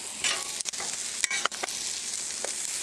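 Squash sizzles and fries steadily on a hot Blackstone griddle, a bright continuous hiss close up, broken by a few quick scraping stirs and clicks of a utensil, with no talking.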